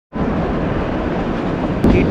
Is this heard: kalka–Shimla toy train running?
yes